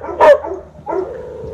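Dogs bark beside the Tennessee River in Knoxville, two loud close barks about half a second apart, with a continuous rumble of water or a boat engine underneath.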